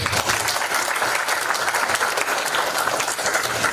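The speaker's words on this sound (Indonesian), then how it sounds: "sekali lagi tepuk tangan untuk beliau" Dense, sustained applause from a university audience, many hands clapping together at a steady loud level throughout.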